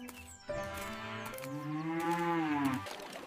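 A cow moos once at a village dairy, a long, loud, close lowing call that rises and falls over about two and a half seconds, with no talking.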